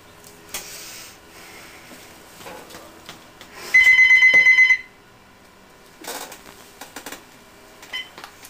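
A telephone rings in one bright, trilling burst of about a second, standing out clearly against quiet background noise and scattered small clicks.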